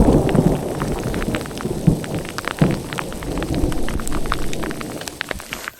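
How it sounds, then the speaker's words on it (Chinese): Thunder rumbles in a mountain storm on Xueshan main peak, with dense hail or rain pattering steadily throughout and a few louder rolls and cracks standing out, no voices. "认真的下了一小段之后，雷声慢慢变远"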